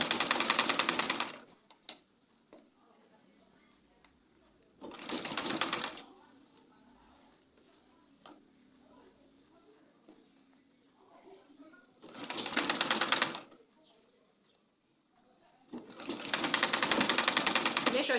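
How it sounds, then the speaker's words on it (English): Short bursts from a sewing machine stitching fabric with an elastic band start and stop, each a loud, close, rapid run of needle strokes, separated by quiet stretches with soft handling noises. "Make sure you are sewing on the fabric, not on your elastic."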